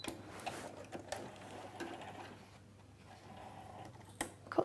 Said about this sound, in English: you then press the reverse button once and it will do 3 stitches back